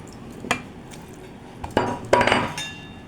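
Washed vermicelli goes into a bowl with a few sharp clinks and knocks of dishware, scattered and close, about four distinct impacts with quieter handling between them.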